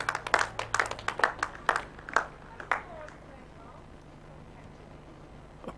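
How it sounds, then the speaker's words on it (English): A single person clapping applause at a lawn bowls match, about a dozen sharp, evenly spaced claps over three seconds that then fade to quiet outdoor ambience with a low hum. "Applause from his skip"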